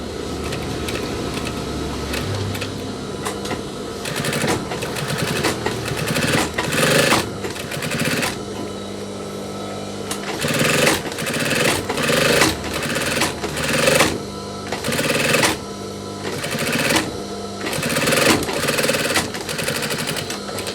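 Sewing machine stitching a denim jacket sleeve placket, running in repeated loud bursts of rapid mechanical chatter separated by short pauses, close up with no talking.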